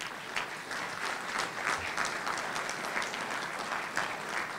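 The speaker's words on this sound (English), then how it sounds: "if you could just give them a round of applause as they come" An audience at a national youth forum gives steady, moderately soft applause as committee members walk onto the stage, with the clapping continuing evenly throughout.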